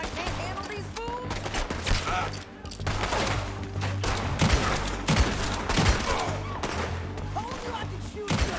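Dense gunfire in Red Dead Redemption II, a scattered volley of overlapping shots from several guns, some near and sharp, others farther off, continuing over a steady low rumble.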